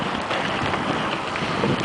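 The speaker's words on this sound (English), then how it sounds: "As long as some of the precipitation stays frozen, so it's like little ice pellets falling" Rain mixed with small ice pellets falls steadily during a March trail ride, a dense, even hiss with wind rushing across the microphone and no voices.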